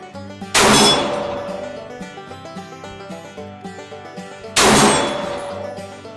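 Two rifle shots, one from an AR-10 and one from an LR-308, crack loudly several seconds apart, each with a sharp blast and a long ringing decay.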